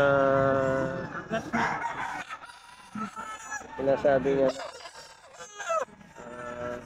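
Chickens at a pet market crow loudly near at hand, with a drawn-out cock-a-doodle call, shorter clucks and calls, and someone talking between them.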